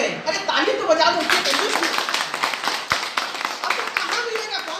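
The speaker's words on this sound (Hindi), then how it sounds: "अरे ताली तो बजा दो।" Audience clapping at a direct selling company presentation, a brisk stretch of scattered hand claps from a nearby crowd with some chatter and laughter mixed in.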